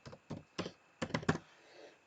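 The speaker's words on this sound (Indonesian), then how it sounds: "Nah, jadi saya langsung mengetik sini." Someone types on a computer keyboard while entering text in Microsoft PowerPoint, a few quick close keystrokes, then a short burst of taps before quiet, with no talking.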